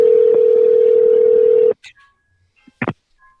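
A phone dials out during a live show, giving a loud steady tone for nearly two seconds that cuts off into a few brief clicks and blips over near silence.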